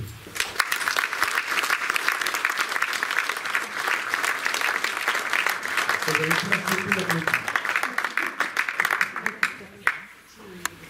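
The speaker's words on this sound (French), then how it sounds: "je vous invite à les applaudir." Sustained applause from a seated audience at a municipal New Year greetings ceremony in Hardricourt, France, dense steady clapping filling the room for about ten seconds, with a brief voice murmuring partway through before the clapping tapers off.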